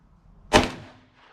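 A single sharp shot from a B&T M9 SMG test-fired with 115 grain ammunition, unsuppressed, loud and close, with a short decaying tail that trails off into quiet.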